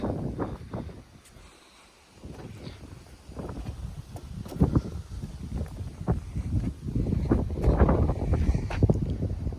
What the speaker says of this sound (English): It's stupid windy here today.